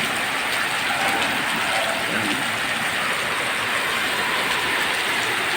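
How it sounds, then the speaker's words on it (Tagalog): Steady heavy rain roars with a dense, continuous hiss, gusting wind woven through it and no pauses for the whole stretch. "Maliban sa ulan, hangin pa."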